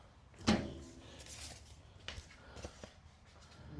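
A drawer on a new heavy-duty seven-drawer metal tool box gives a single sharp knock while being opened or closed, followed by a few fainter clunks and rattles against quiet room noise.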